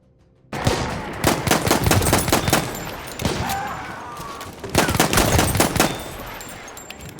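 A silenced M1911 pistol in the video game Battlefield 1, firing in a dense run of quick muffled shots over busy battle ambience, the firing clustered into several flurries across the stretch.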